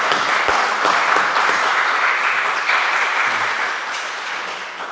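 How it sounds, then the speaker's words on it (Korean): Church congregation at a Sunday service in Paris claps together to welcome a newly introduced family, a dense, steady round of applause filling the room and slowly tapering near the end. "우리 다 같이 한 박수로 찬양하겠습니다."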